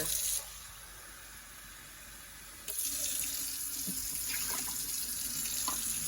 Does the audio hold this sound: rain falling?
no